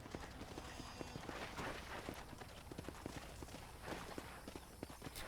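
Horse hooves clop in a steady walking rhythm in the video game Red Dead Redemption, close and distinct over a continuous outdoor ambient bed, with no voices over them.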